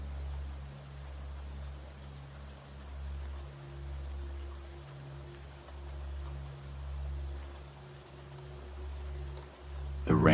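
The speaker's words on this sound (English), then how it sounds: "The rain above and the river below join together, weaving a harmony that cradles your mind." Steady rain pattering alongside a flowing river, a soft continuous wash of water with a low rumbling undertone, fairly even throughout and swelling briefly louder at the very end; no talking.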